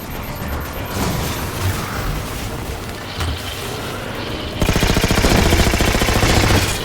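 Turret gunfire in Halo 4, a loud mechanical clatter and crackle that grows into a heavier, denser burst of rapid fire near the end.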